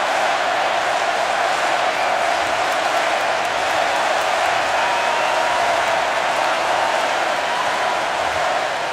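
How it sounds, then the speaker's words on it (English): A large Miami football crowd roars at the Orange Bowl stadium, a dense, sustained wall of cheering and noise that stays loud and steady throughout. "Here comes that Miami crowd."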